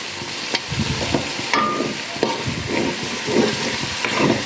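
Spice masala fries in a pan with a soft hiss while a utensil stirs and scrapes at an easy, irregular pace, close up with no voices.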